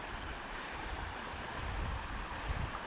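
Breezy wind on the Court of the Patriarchs (Sand Bench) Trail in Zion National Park, Utah, rushes and buffets the microphone in a steady, fairly loud wash with slight gusts and no talking.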